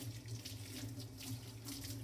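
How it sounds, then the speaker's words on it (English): Steady rush of water from a sink tap while hands are rinsed under the stream, a close, even splashing with no speech. "rinse them off with the water."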